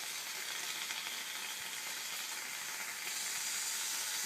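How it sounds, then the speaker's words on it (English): Bacon strips crisp in a frying pan with a constant bright, hissing sizzle, close and even throughout, and no one speaking. "the bacon is crisping up very nicely at the moment. As you can hear in there"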